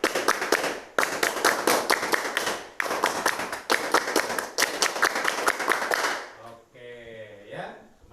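A class of students performs the Pramuka scout rhythmic clap twice, with several rapid patterned rounds of sharp group clapping, followed by a voice speaking at the end.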